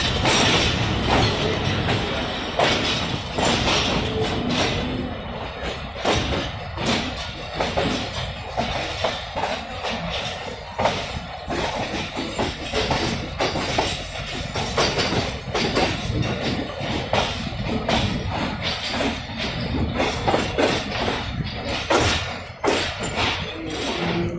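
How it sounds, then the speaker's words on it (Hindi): 15 Up Karachi Express arriving at Hyderabad Junction: loud, continuous train rumble with rhythmic thumps and clicks of railcars passing over rail joints, steady throughout. "15 up Karachi express 30 minute late Hyderabad junction पे अराइव कर रही है।"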